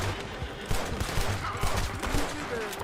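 Rapid gunfire in the video game Red Dead Redemption 2, a dense burst of repeated close shots and cracks in uneven rhythm, loud and continuous across the moment, with voices murmuring underneath.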